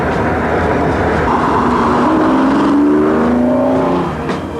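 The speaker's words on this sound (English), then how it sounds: "It's called the Diablo, and it's the fastest car in the world." A Lamborghini Diablo's engine roars loudly and close, its pitch climbing as it accelerates, then easing off near the end.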